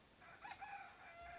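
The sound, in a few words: chicken clucking in video game Clanfolk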